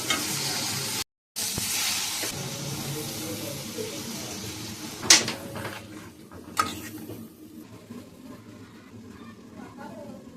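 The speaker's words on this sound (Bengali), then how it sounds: "আমি এখন রান্না করছি মাছের ঝোল" Fish curry being stirred and fried in a pan, a steady sizzling hiss with a couple of sharp utensil knocks, a brief dropout early on.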